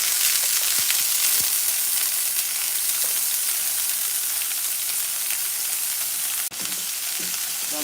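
Shrimp frying for lo mein, a loud steady hiss and crackle of sizzling oil that runs continuously, with one sharp click partway through and no talking.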